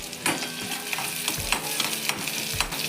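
Sliced onion frying in a pan for a fish curry, a continuous close sizzle with soft stirring scrapes and small crackles, no voices.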